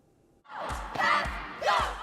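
Crowd cheering and shouting at a high school cheerleading competition at Hofstra University on Long Island, swelling in loud bursts with thumping beats underneath, a dense roar of many voices close by.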